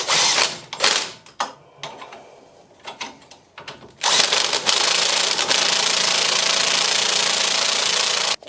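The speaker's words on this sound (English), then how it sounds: "We'll just do the bottom nuts up." The bottom nuts of a Fiat 500 front shock absorber are tightened with a tool, close metallic clicks and ratcheting bursts giving way to a loud continuous whirring rattle of a power tool.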